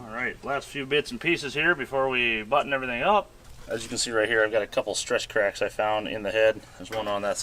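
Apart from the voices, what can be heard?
No distinct noise like a dog, phone or traffic.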